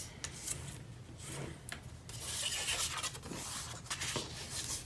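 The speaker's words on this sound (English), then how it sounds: "Just fold and burnish all of your fold lines that you just made." A bone folder creases and burnishes scored paper fold lines, producing quiet, close rubbing and scraping strokes in uneven bursts, with soft paper rustles between them.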